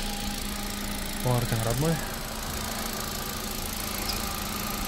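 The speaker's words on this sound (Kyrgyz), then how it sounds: "Так, мынакей мотор иштеши жакшы." A Kia Morning with a simple, reliable non-GDI engine idles at a car auction, a steady low hum running throughout while someone speaks briefly near the start.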